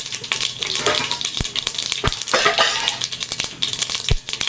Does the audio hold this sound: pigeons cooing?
no